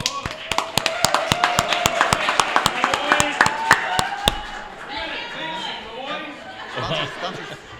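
A crowd gives a round of applause for the ROTC at a Veterans Park sports event, crisp rhythmic unison claps ringing out loudly for about four seconds, then fading into a murmur of crowd noise and talk.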